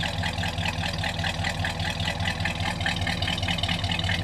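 A 1969 Pontiac Le Mans engine idles smoothly and steadily, a low rumbling drone with an even pulse heard from behind the car, with no talk.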